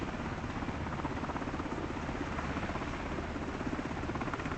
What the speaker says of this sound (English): So we're in an MH-60.